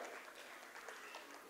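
Audience applause at an annual school showcase event, a faint steady patter of many hands clapping heard from a distance.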